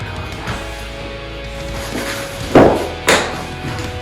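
Two sharp knocks of a wooden block tapping radiant floor heating wire down onto a floor, spaced about half a second apart, close and clear over a steady background hum.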